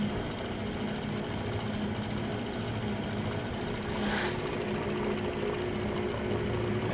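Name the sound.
vintage Van Norman 204 brake lathe gearbox running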